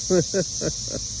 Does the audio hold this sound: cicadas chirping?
yes